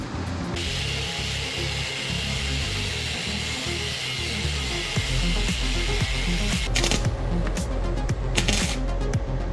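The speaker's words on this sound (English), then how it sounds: "I gotta cut this old hanger off, this metal here" Power tool cutting through an old metal exhaust hanger on a motorcycle, a loud continuous buzzing grind that shifts in pitch partway through, with a few sharp scraping bursts near the end and no talking.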